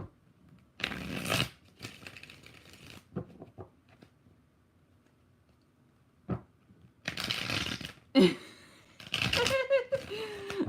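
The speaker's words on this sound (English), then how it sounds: "3 shuffles." Tarot cards are shuffled in several quick riffling bursts, separated by pauses, with a voice briefly heard near the end.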